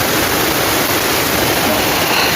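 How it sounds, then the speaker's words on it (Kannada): Heavy monsoon rain driven by strong wind, with water rushing and splashing close by, a loud, dense, unbroken roar with no pauses. "ಜೋರು ಗಾಳಿ ಬರ್ಸ ಬರೋನುಂಡು"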